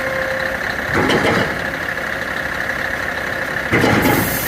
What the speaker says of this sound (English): the recovery truck's going backwards